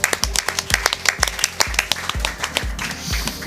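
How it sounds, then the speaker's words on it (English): A small crowd claps steadily, a run of sharp hand claps at close range with no voices over it. "a round of applause for Glock."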